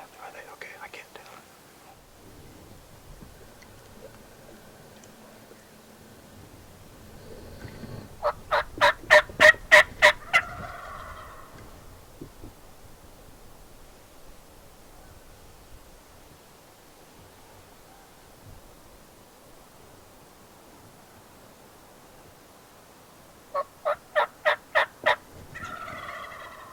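Merriam's wild turkeys gobble in two loud rattling bursts, one near the ten-second mark and another near the end, with faint whispered talk and quiet outdoor background between them.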